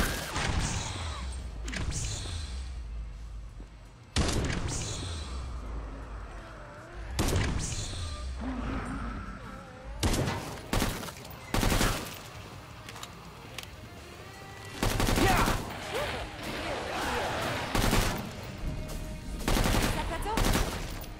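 Bursts of gunfire from the video game Killing Floor 2 on Hell on Earth difficulty, with loud sharp shots and rapid automatic volleys in clusters, some ringing out and decaying, mixed with game noise and occasional voices.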